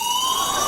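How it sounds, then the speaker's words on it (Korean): A fire alarm sounds suddenly indoors, a loud steady electronic tone slowly rising in pitch and carrying its harmonics, heard alone and close for under a second. "갑자기 울리는 화재 경보"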